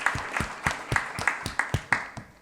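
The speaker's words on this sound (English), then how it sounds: "So I would like to have a full good round of applause for Mr. Vispi." Scattered clapping from a small audience at an award felicitation during a capital-markets conference: about a dozen distinct, fairly close claps in a loose, uneven rhythm.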